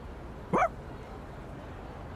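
A single short dog bark from the dog in Persona 3 Reload, heard once, brief and moderately close over a quiet game background.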